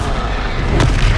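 Spell blast in Hogwarts Legacy, a short loud boom-like magical impact with dense rumble and a whooshing burst near the middle, close and forceful.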